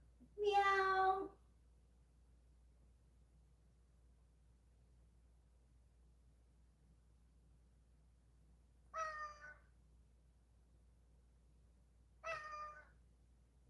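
A cat meows three times: one long drawn-out cry, then after a long quiet pause two shorter meows a few seconds apart, close by.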